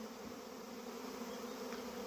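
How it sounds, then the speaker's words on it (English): A honeybee swarm moves into a hive box, giving a steady, dense buzzing hum of many bees close by that holds throughout without talk. "this is what it looks like when a bee swarm's moving into a box"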